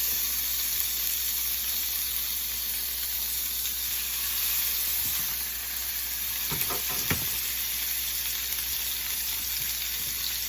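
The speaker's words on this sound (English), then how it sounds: "Let's go over and put our salmon fillets down" Salmon fillets searing skin side up in a hot pan: a steady, bright continuous sizzle with a few soft handling thumps in the middle, no talking.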